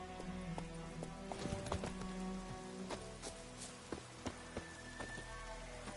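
A horse clip-clops along at a steady pace in The Witcher 3, its hooves thudding evenly at mid distance over a soft patter like rain, with a couple of sharper hoof strikes standing out.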